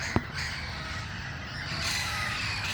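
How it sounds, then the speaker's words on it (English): A flock of parrots perched in trees at dusk calls continuously at a distance, a steady overlapping chatter of harsh squawks with one sharper note early on. "They're parrots. Those are parrots."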